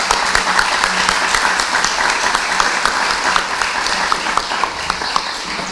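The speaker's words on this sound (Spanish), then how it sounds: "Vamos a darle un aplauso a nuestros niños." A church congregation gives the children a round of applause, a loud, dense and steady clapping that fills the whole stretch with sharper individual claps standing out.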